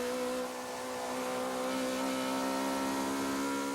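A Group N touring car engine races at Kyalami circuit with a sustained whining note that rises slightly, steady and distant, with no voices.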